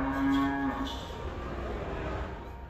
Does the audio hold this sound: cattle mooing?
yes